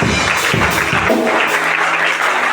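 A church congregation claps together in acclaim of Jesus, dense continuous applause with sharp overlapping hand claps filling the room.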